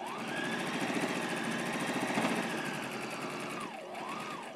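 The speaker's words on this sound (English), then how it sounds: "I'm going to sew around." A sewing machine stitching around a reversible fabric basket liner, a continuous fast mechanical chatter with a steady motor whine, close and fairly loud, slowing slightly near the end.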